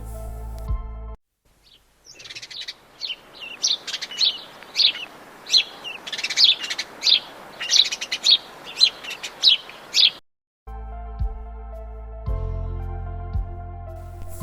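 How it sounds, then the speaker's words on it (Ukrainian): A small bird chirps again and again in quick, bright bursts, clear and fairly close, over a soft hiss, with music before and after. "Так, це горобець."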